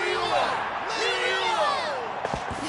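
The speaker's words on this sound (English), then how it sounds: "Hear that? Exhilarating cheers of the crowd." A large crowd cheers and whoops in an arena setting in the game Genshin Impact, a sustained roar of voices with rising and falling shouts and a couple of thumps near the end.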